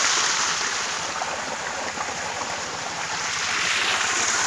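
Steady, broad rush of water gushing from a farm pump set at Mayilambadi near Bhavani, continuous and close, with no talk over it.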